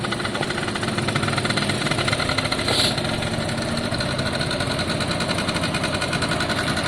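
A kick-started motorcycle engine idles steadily while warming up in a busy garage, a close, even mechanical chug running throughout with no talk.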